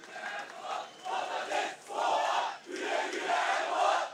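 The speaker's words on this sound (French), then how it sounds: "la foule réagit en criant au revoir au président Erdogan" A large crowd at a Turkish opposition election rally shouts and chants a farewell to President Erdogan, loud, rising and falling in several surging waves of massed voices.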